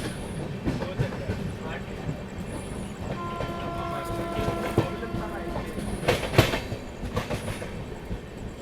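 Indian Railways long-distance passenger train running non-stop at slow speed through Ongole station on the Bangalore–Kolkata route, heard from inside the first AC coach: steady rumble with rhythmic wheel clatter and a distant horn.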